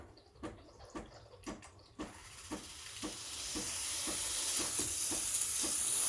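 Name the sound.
steam wand hissing on Breville Barista Express BES860 espresso machine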